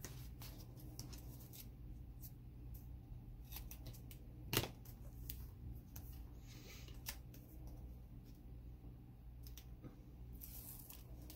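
Quiet, close snipping of scissors cutting through foam tape, a run of soft clicks and crunches with one sharper snap partway through.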